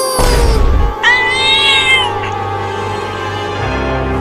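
A cartoon kitten gives a couple of high, drawn-out meows, loud and close, over a low background hum.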